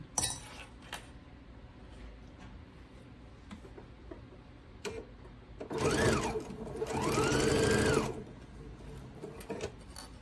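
A sewing machine stitches layers of batik and non-batik quilt fabric, a faint rising whir running for a couple of seconds amid scattered small clicks and ticks in a quiet room.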